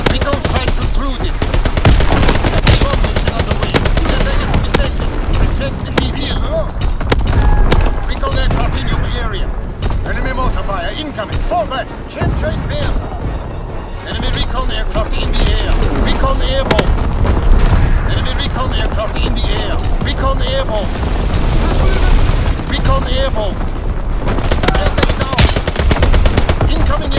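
Constant artillery and machine-gun fire roar through a Call of Duty WWII multiplayer match on the 1944 Shipment map, loud and dense with booming blasts, and game voice callouts break in now and then.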